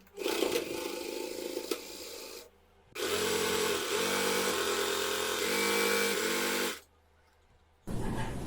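A sewing machine stitching a pinned seam, running in loud buzzing bursts with steady rapid stitching, stopping briefly between runs, close up and without speech.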